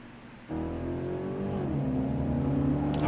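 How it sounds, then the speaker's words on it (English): A deep Dodge Charger or Challenger muscle-car engine in a video game starts up and revs steadily with a rumbling, rising and falling tone, loud and close, with no talking. "I can actually hear the Charger or the Challenger right beside us."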